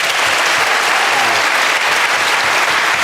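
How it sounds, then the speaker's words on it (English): A radio panel show studio audience applauds the contestants, steady dense clapping at full volume from start to finish with no voices over it. "So a round of applause for the seconds."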